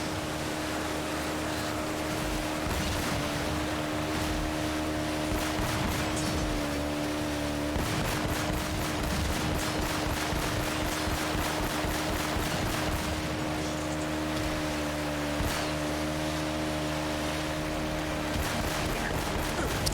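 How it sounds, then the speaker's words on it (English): In Uncharted: Drake's Fortune, a pistol is blind-fired at barrels: rapid repeated gunshots crackle steadily through a dense, continuous game soundscape for the full stretch. "Elena number 2 has a pistol that I can blind fire at the barrels."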